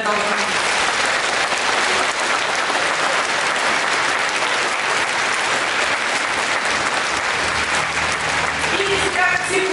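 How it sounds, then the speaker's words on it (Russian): Audience in a theatre hall gives a sustained ovation for a visiting academic opera and ballet company, dense continuous clapping from a large crowd that fills the room evenly throughout, with a voice faintly heard beneath. "Это просто овация в зале Донбасса."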